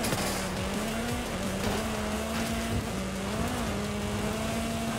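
Race cars roar through a video game race, with a steady engine drone and gear-shifting pitch changes that run throughout, loud and continuous with no talk.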